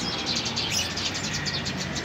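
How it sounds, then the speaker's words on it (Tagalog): Small birds chirp and tweet in a rapid, continuous chatter outdoors, fairly close and steady, with no one talking. "May mga ibon-ibon pa, oh."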